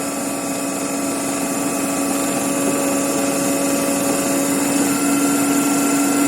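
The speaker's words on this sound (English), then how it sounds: "I am increasing the speed with the help of the rheostat." Electric motor driving an alternator in a lab test setup, a steady loud whine and hum with strong tonal bands that hold level and rise slightly as the rheostat increases the speed; no speech.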